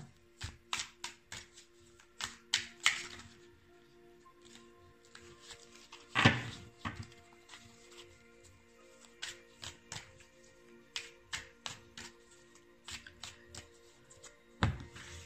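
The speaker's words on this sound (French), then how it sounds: "je tire 3 cartes" A Rider-Waite tarot deck being shuffled and cards drawn, with quiet, crisp card snaps and taps in irregular clusters and one louder riffle midway, close and otherwise hushed.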